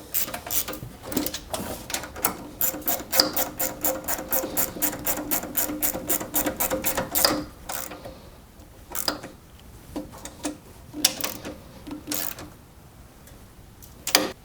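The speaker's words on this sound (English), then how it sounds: "And then just tighten up the bolts." Ratchet clicking as bolts on the belt keeper of a Toro Power Max OXE 826 snowblower are tightened: rapid, close, even bursts of clicks, then slower separate strokes with short pauses between them.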